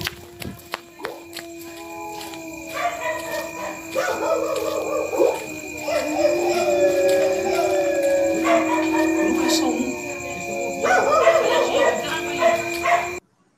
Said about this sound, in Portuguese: E chamou a atenção esse uivo.